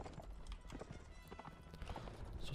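Horse hooves in the video game Mount & Blade Warband clatter in a quick, busy clip-clop rhythm, fairly faint and continuous against a rough background.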